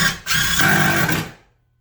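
A drill or driver sinks a screw through the back of a workbench into a wall stud in a home shop, making one short whirring burst that stops abruptly.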